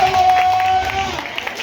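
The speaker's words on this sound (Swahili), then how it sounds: "Piga Yesu makofi." A church congregation clapping and cheering for Jesus, a dense burst of applause from a crowd filling the room, with a faint voice underneath.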